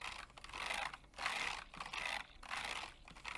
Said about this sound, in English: If I run my hand over it like this